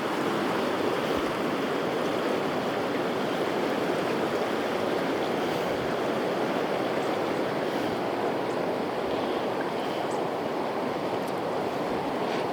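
Rapids on the Kern River rush in a steady, dense roar of flowing water, loud and unbroken for the whole stretch, with no voices.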